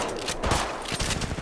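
Rapid gunfire in the mobile battle royale Apex Legends Mobile, a brief clatter of close shots in quick succession.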